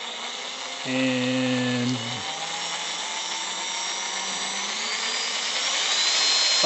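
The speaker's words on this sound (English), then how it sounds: "So the motor should squeeze a little bit, starts up, harder," Electric motor of a 24 volt kids' ride-on toy jeep starting up, a steady high whine with a brief lower growl near the start, close and continuous and gradually rising in pitch, with a short spoken word.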